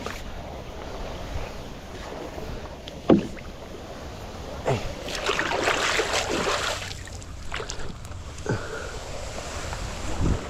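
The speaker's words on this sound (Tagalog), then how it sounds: "Ayan tayong bangka." A small boat knocks and sloshes on a lake with splashes and creaks, along with soft wind and a few hollow thumps.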